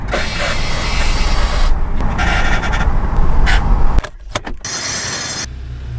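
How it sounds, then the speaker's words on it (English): A wrecked Volkswagen Golf R's tyre scrubs against the inner wheel arch over bumps, a loud, continuous rumbling rub that drops away briefly near the end before resuming. "Now what that noise is this tyre scrubbing along the inner arch there."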